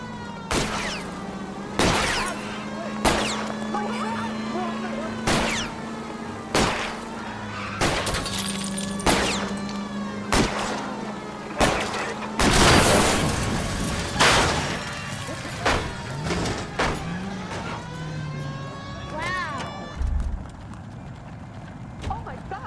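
Gunshots ring out at a car's tires during a chase in L.A. Noire: a long run of loud, sharp cracks at irregular intervals over a droning engine, with glass breaking and voices in between.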